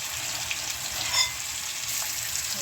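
Garlic fries in oil for a tempering, making a soft, even, continuous sizzle close by with a couple of faint brief stirring touches, and no voices.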